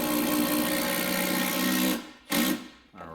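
A powered socket wrench whirs steadily as it tightens a rotted bolt on a GM fuel filler neck, cuts out, then gives a short second burst before stopping.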